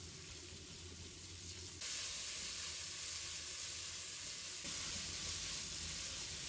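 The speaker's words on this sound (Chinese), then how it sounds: "再把肉丝给加进来，把肉丝给它炒散" Shredded pork stir-frying in a pan for fried noodles gives a loud, steady sizzle and hiss up close that grows stronger partway through, with no talk.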